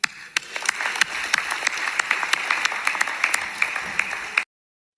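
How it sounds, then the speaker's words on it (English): Audience applause at a university graduation ceremony, a broad wash of many hands clapping with a few sharp louder claps standing out, continuous until it cuts off abruptly near the end. "Encourage them to clap"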